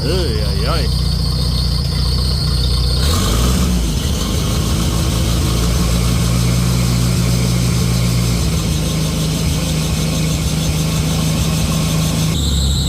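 A loud tractor engine with a new alternator runs at idle with a steady low rumble and mechanical rattling, its pitch shifting slightly partway through; no talking.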